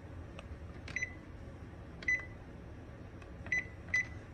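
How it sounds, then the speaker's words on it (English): A kitchen stove timer being set, giving a few short, faint electronic beeps spaced a second or more apart over a low steady background hum. "I always turn the timer on my stove"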